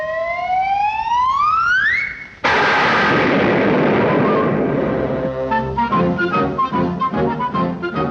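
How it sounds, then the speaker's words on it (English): A rising whistle-like siren in a 1945 Woody Woodpecker cartoon climbs and cuts off, then a loud, sudden explosion blast roars and decays into rumbling, followed by jangly musical debris. "you're going to hear the doggonest explosion you ever heard"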